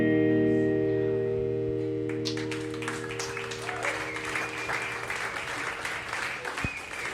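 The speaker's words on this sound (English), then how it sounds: "a round of applause for Sven" A club crowd claps for a band after a song ends, the final held chord ringing out first before scattered, then fuller applause fills the room at moderate volume.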